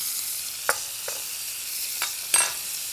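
Butter sizzling in a hot pan with top sirloin steaks, a faint steady hiss broken by a few soft crackles and pops.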